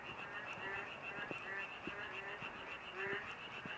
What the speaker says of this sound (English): Is that like cicadas fighting against frogs?